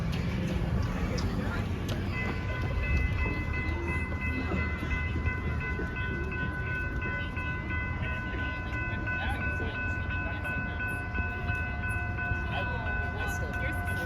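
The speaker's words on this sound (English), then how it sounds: "About to film the train." A Lynx light rail train passes the Park Avenue railroad crossing, a steady loud rumble of rail cars running throughout, with sustained tonal horn or crossing-signal notes held over it from about two seconds on.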